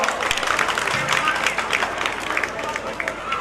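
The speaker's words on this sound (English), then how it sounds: "Parents, please, a big round of applause for our well-deserved award." Audience applause at a school annual function as students receive awards, a dense, even wash of clapping from a large crowd with voices faintly audible beneath.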